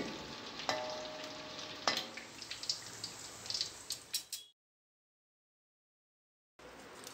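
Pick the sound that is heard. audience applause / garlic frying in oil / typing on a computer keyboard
garlic frying in oil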